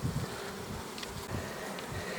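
A dense, even hum of calm honey bees rises from hive frames holding capped forest honey and bee bread, with a few faint handling knocks through the steady buzz.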